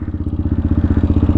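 A Benelli TNT 125 motorcycle with a slipping clutch pulls a wheelie, its small single-cylinder engine close by and revving in a rapid, even, pulsing chug over a brief burst.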